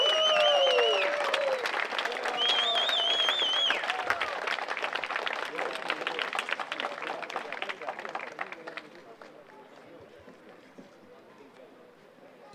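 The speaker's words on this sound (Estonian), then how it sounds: "Aplaus!" Crowd applauding at an award ceremony at a Kuusalu event, loud dense clapping that gradually fades out, with a voice speaking over the start and whistle-like tones early on.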